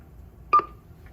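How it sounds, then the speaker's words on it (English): A Broaster SmartTouch fryer sounds its basket-up alarm: a single short electronic beep tone, clear and fairly close, over a quiet room hum. "It will wait a few seconds and start to beep."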